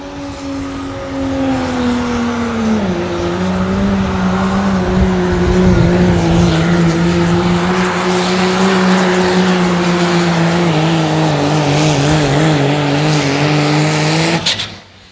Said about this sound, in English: That truck running a six-cylinder Cummins diesel engine.